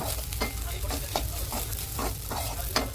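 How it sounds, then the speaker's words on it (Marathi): Sabudana khichdi with potato pieces and chopped coriander stirred in a pan, a soft steady sizzle broken by repeated scraping strokes of the spoon at an irregular, unhurried rhythm, close and alone with no voices. "साबुदाणा टाकून व्यवस्थित परतल्यानंतर थोडीशी कोथिंबीर टाका आणि व्यवस्थित परतून घ्या।"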